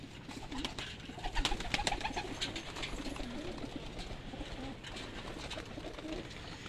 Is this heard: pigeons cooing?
yes